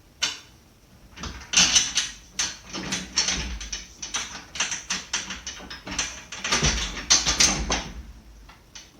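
A bolt and locking nut are fitted on an aluminium Harbor Freight dirt bike carrier, giving bursts of quick metallic ratcheting clicks close up, with short pauses between runs.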